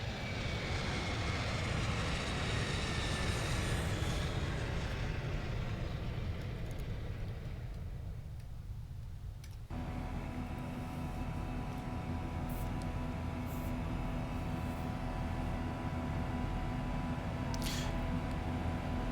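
Boeing 737 jet in the X-Plane 11 flight simulator, climbing out of Toronto: a steady engine roar, broad and loud, then a shift to a steadier droning cabin hum with a whining tone, no talk.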